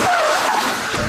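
Car tires squeal and skid loudly during an evasive lane change maneuver, a continuous close screech with wavering pitch that holds for about a second.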